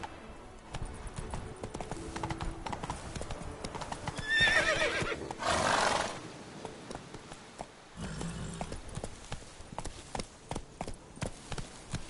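Roach, the horse in The Witcher 3, gallops with rapid clip-clop hoofbeats and lets out a loud neigh partway through, then keeps running at a steady pace.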